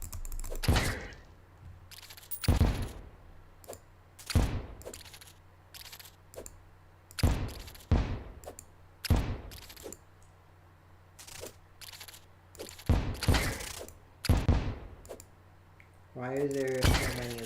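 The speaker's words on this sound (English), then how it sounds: "You get grenaded. Everyone gets grenaded." Grenades go off again and again in Terraria during a hardcore master-mode fight against the Brain and a goblin army. The sharp, loud blasts come in quick irregular bursts, mixed with someone talking.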